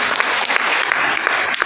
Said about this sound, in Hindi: इन सभी के लिए जोरदार ताली होना चाहिए।